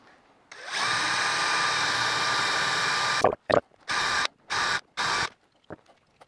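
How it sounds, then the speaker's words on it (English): A power drill whirs steadily for a few seconds while drilling holes in wood, then stops and restarts in three short bursts, close and loud. "And start drilling."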